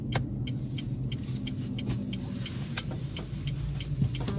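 A car engine climbing a hill, a steady low rumble with faint periodic ticking on top, heard from inside the moving vehicle with no talk.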